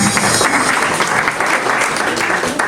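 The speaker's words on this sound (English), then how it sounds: "Please give them a round of applause." Audience at an Esan cultural day gathering in Munich claps for the women, a loud, dense burst of applause lasting a few seconds with some crowd noise mixed in.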